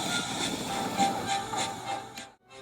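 A steam engine shunts passenger coaches into position at a station, giving a steady rumbling hiss with rhythmic chuffing pulses and clanks before cutting off near the end.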